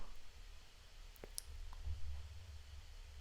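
A computer mouse clicks once on a sign-up button, a single faint tick against quiet room hum, with no talking.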